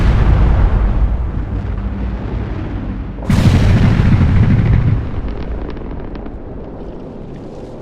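A mountaintop mining blast set off with ammonium nitrate and diesel fuel erupts suddenly as a deep, heavy boom that rumbles for a couple of seconds, then fades into lingering distant debris noise.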